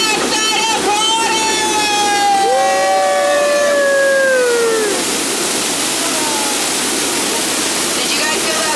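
A waterfall on the Walt Disney World Jungle Cruise boat ride swells into a loud, steady rushing roar as the boat passes behind the falling water, with voices calling out over it just before.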